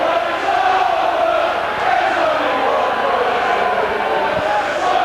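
A football crowd at Rochdale's play-off semi-final against Rushden & Diamonds roars in a steady, dense wash of chanting and noise, with a commentator talking over it.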